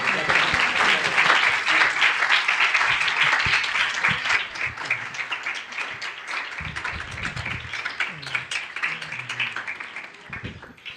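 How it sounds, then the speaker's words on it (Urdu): An audience at a church gathering bursts into loud, sustained applause to welcome a pastor. The dense clapping thins gradually toward the end, and a few voices murmur underneath. "زوردار تالیاں بجائی جائیں"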